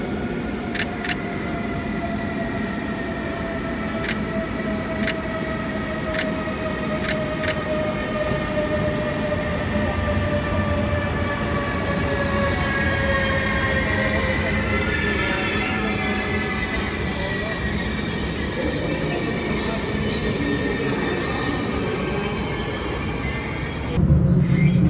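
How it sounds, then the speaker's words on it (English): Eurostar train from London St Pancras pulling into Amsterdam Central station, a long rolling rumble with high wheel squeals and a few sharp clicks, fairly near and steady, swelling toward the end. "Here we have the Eurostar arriving in from London St Pancras at Amsterdam Central."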